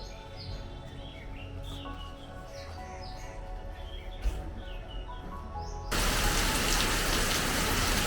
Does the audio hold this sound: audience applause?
no